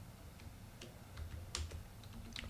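Keys tapped on a computer keyboard while writing Python code, a faint, irregular scatter of soft clicks with a couple of sharper taps midway, close and quiet with no talking.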